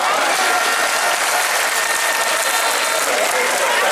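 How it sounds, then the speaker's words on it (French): A large gathering at a strike rally applauds itself in loud, continuous clapping, a thick unbroken roar of hands that stays close and even, with possible voices blended in. "Applaudissez-vous encore"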